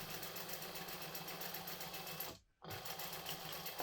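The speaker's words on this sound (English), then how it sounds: "I'm just going to sew straight down at 1/8 of an inch." A sewing machine runs a straight seam at an eighth-inch allowance, humming steadily at close range, cutting out for a brief pause near the middle, then resuming.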